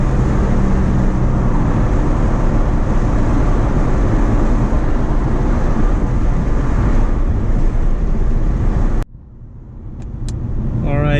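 A 2003 Nissan 350Z Track Edition engine accelerating in second gear, a loud continuous roar heard from inside the car that cuts off abruptly near the end, leaving a faint rising tone.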